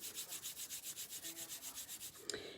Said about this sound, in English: Bring your palms together and just, as you started, rub them together